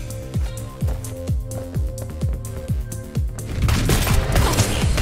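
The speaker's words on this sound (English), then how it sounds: "So I have to be careful because those explosions will do damage to me." Grenade explosions in the Neon Abyss video game burst in a rapid, evenly spaced string of punchy booms, loud and close, ending in a denser noisy blast of overlapping detonations.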